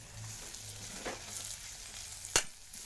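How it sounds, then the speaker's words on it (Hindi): Onions frying in a pan, a soft steady sizzle heard close but quietly, with a sharp clink of a utensil against the pan near the end. "संगवारी हो हमन के प्याज भुंजा गए है"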